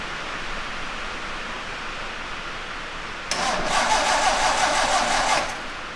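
A 1954 MG TF engine cranks over on a 200 amp booster charger, the starter whirring steadily for about two seconds after quiet background hiss, then cutting off without the engine firing.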